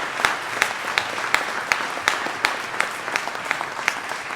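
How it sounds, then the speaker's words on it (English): Audience at a county government State of the County address breaking into sustained applause, dense steady clapping throughout with sharp louder claps standing out, moderately near and without talk. "deserves another round of applause"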